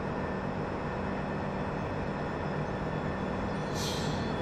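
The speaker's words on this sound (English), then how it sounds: "Here comes another train." A train rolls past on a Farming Simulator 17 farm map, heard as a steady, dense rumble with faint hissing and no talk, holding even through the clip.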